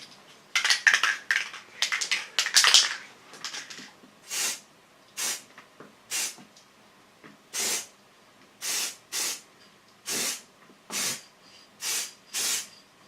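A spray can applies chrome look paint to a car headlight housing in short, regular hissing bursts, each about half a second long and close by, after a denser opening of rattling and spraying.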